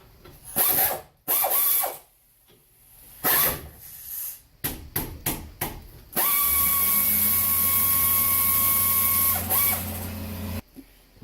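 A loud air compressor motor drones steadily for several seconds after bursts of ratcheting and clanking during rear brake pad and rotor work on a 2012 Nissan Pathfinder, then cuts off near the end.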